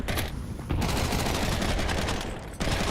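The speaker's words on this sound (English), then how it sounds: "Unless it's a lot of bullets whizzing by him here." Dense, continuous gunfire in a Counter-Strike esports match, overlapping rifle bursts forming a loud, unbroken barrage with brief dips in intensity over three seconds.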